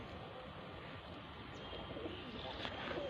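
Pakistani stamped pigeons coo softly over a steady hiss of background noise, a faint and distant-sounding soft calling with no clear speech.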